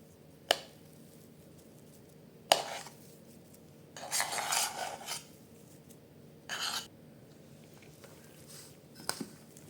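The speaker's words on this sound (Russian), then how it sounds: "И все хорошо перемешиваю." Potatoes and cheese are stirred in a bowl with a utensil, a few sharp scrapes and taps on the bowl between short bursts of soft mashing and rubbing, close and quiet.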